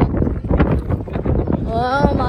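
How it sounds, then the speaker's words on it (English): Gusty wind buffets the microphone in loud bursts, with a high whistling tone appearing near the end. "It is windy very at the top."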